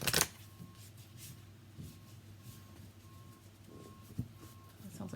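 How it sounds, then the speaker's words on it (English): A truck reverses outside near a house in the woods, its backup alarm beeping in a steady rhythm, faint and distant, with small indoor rustles and knocks nearby. "It sounds like there's a truck outside."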